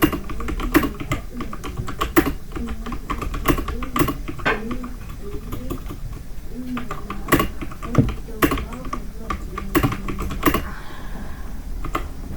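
Steady typing on a computer keyboard, with irregular bursts of clicking keystrokes close to the mic, some sharper key strikes standing out, and a low room hum underneath; a voice is faintly present at times.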